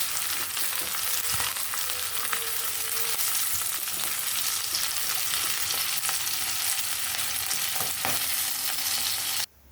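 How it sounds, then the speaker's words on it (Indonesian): Tempeh stir-fried with bean sprouts and chili in a wok gives a steady, loud sizzle and crackle throughout, with occasional stirring scrapes and no talking. "Tumis tempe campur toge"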